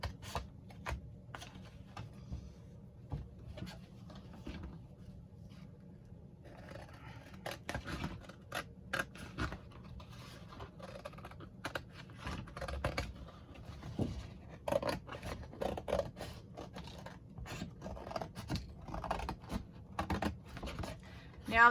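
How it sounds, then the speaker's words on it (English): Scissors cutting along the outer lip of a full-size cardboard pizza box, heard as a steady run of close, crisp snips and scraping strokes at low level, with no one speaking. "We want to run the scissors right on the outside of that."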